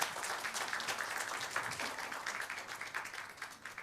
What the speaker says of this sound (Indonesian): Aplaus teman-teman media untuk beliau.